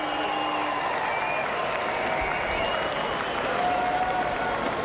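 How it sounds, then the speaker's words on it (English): A cricket crowd applauds and cheers a very fast delivery from Brett Lee, a dense, steady roar of clapping and cheering that holds loud for about five seconds. "I think the crowd have just realised that there's something special going on out there from Brett Lee."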